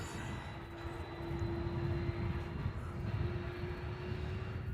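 A Boeing 737-8 inbound from Adelaide to Melbourne Airport gives a steady, moderately loud jet rumble with a thin whine running through it, holding level the whole time with no talk.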